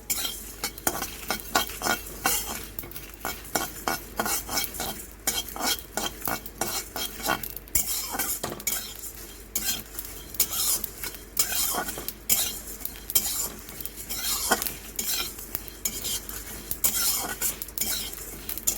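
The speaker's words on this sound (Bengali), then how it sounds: "ভালো করে ভেজে নেব।" Cumin, fennel, coriander seeds and a black cardamom sizzle in hot oil for pickle while a metal spoon stirs, scraping and clinking against the pan in a steady, busy rhythm, close and without talk.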